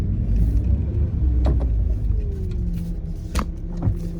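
A 1990 Toyota Celica 4WS GT-R makes a low, steady engine rumble while turning at full lock in a U-turn, with a few sharp ticks and clicks from inside the car.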